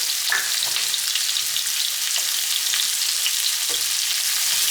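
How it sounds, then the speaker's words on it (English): Potatoes and onions fry in bacon grease, a loud, steady sizzle that carries on throughout with a few soft stirring clinks and no talking. "And we're just going to saute these for about 5 minutes."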